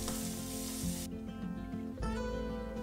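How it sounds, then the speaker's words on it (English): Loud steady sizzle of a steak searing fat side down in a hot cast iron skillet, the fat rendering with continuous crackling hiss that briefly dips and then surges again. "take your steak and put it on that fat side down, and you really want to render down that fat for about 60 seconds"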